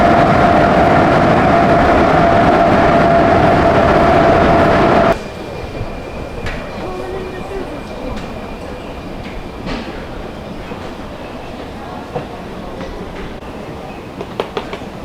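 A metro train in a European capital city rumbles loudly and steadily for about five seconds, then the noise drops abruptly to quieter station ambience with scattered faint clicks and thumps.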